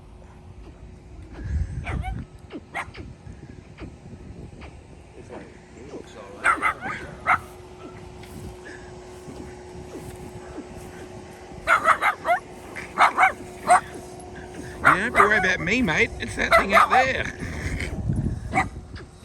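A dog yips, whimpers and gives short barks while being used as bait for an alligator near water, the sounds scattered among excited talk from several people.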